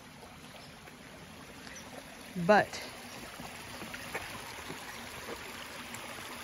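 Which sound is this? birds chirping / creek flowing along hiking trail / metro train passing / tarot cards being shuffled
creek flowing along hiking trail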